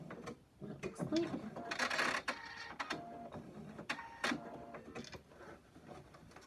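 A sewing machine back-stitches a quilted slipper, giving short mechanical whirring runs with stops and starts, close and quiet, while a person talks softly over it.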